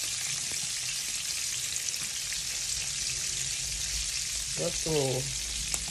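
Whitebait fish sizzle in hot oil with a steady, loud, hissing frying noise throughout, and a brief voice is heard near the end.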